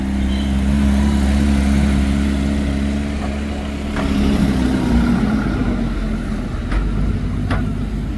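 A Mercedes G-Class Brabus drives past on a Cannes street, its engine a deep steady rumble that swells slightly midway and settles again, fairly loud and without speech.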